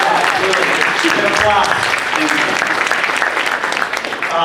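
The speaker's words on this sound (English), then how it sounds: "Let's give him a big applause" A fan convention panel audience gives a loud, sustained round of applause, dense crowd clapping with some voices mixed in, tapering slightly near the end.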